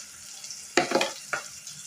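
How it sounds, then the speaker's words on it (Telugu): Onions and green chillies hit hot oil with a sudden close sizzle, followed by a second burst of frying crackle as they are stirred in the pan. "ఆయిల్ కాగాక ఉల్లిపాయలు పచ్చిమిర్చి వేసుకోవాలి"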